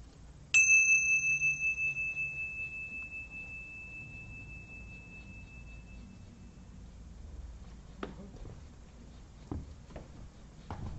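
A single ritual bell rings out during a Gnostic Thelema mass, a clear bright strike with a long pure tone that slowly fades over several seconds, followed by quiet room sounds and a few soft knocks.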